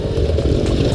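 Enduro motorcycle riding over rocks: a loud, close, steady buzzing engine drone with a rough, uneven texture throughout.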